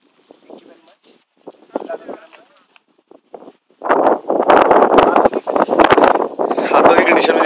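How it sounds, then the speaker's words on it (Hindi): Strong wind gusts at an outdoor kite-flying event buffet the microphone in loud, rough bursts that take over after a few quieter seconds, with people talking throughout. "ये बहुत तेज हवा है"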